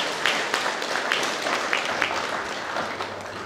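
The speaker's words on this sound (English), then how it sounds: "I think they deserve a round of applause." An audience at a Filipino dual-citizenship oath-taking ceremony in Perth applauds consular staff with dense, continuous clapping. It stays steady and fairly loud throughout, with scattered individual claps standing out from the mass.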